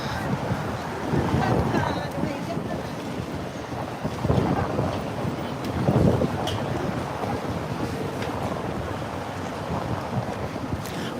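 Gusty wind blows outdoors on a New York City street corner at 5th Avenue and 42nd Street, a continuous broadband rush with microphone buffeting and several stronger gusts, mixed with distant city noise.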